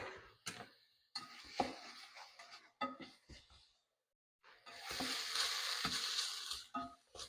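Onion for a slow cooker white chicken chili frying in a pot and stirred now and then: soft sizzling broken by scraping stirs, with a short pause, then a steadier sizzle near the end.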